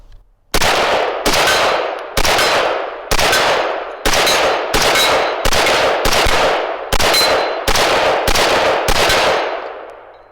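Around ten evenly spaced gunshots fired close and loud, each sharp report trailing into a brief ring, while test-firing Brown Bear ammunition; no voices.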